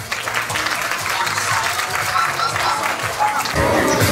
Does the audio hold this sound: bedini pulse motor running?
no